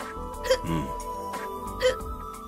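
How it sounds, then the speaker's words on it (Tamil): A person hiccups twice about a second apart, each a short throaty gulp with a slight whimpering tone, heard close up in a domestic drama scene. "விக்கல் நிக்கல போலையே?"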